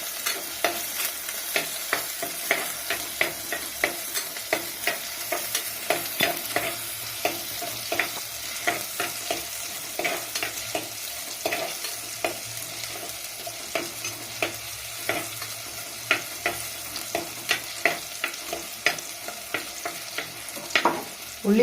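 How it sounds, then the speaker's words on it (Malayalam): Onions frying in a pan for a fish curry, stirred with a utensil: a steady sizzle runs throughout, punctuated by frequent sharp scraping clicks of the stirring spoon against the pan, close and alone without talk. "നമുക്കൊന്ന് ഇളക്കി കൊടുക്കാം."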